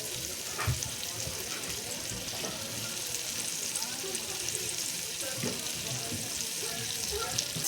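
Eggplant slices shallow-frying in a pan, a steady low sizzle throughout with occasional faint clicks and taps of a utensil, no talking.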